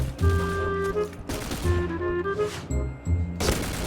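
MX4 gun firing in a video game: sharp shot bursts in several quick clusters, loud and close, with metallic ringing tails between them.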